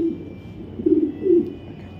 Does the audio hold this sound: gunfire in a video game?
no